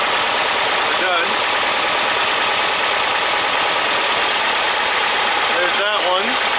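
A VW-style engine fitted with dual EMPI 40HPMX carburetors idles steadily at close range while the carbs are synced, a loud continuous broadband drone with brief vocal-like chirps near the start and end.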